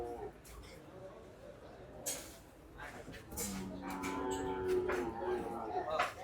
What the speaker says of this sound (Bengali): সাদ ভাই, গরুটা কত সুন্দর মাশাআল্লাহ।